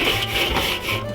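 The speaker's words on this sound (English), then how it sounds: "It's a nice little brush here from Grillaholics" A Grillaholics grill brush scrubs a heavy-duty grate on a Weber kettle, giving a steady, continuous bristly rasping that stays close and fairly loud with slight surges in strength.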